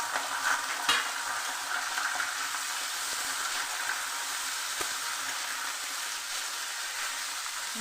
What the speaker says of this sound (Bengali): পেঁয়াজটা একটু লাল করে ভেজে নেব হালকা ব্রাউন